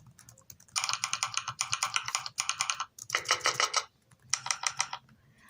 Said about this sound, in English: there is this program called Mech Vibes, which basically allows you to change the sound of your keyboard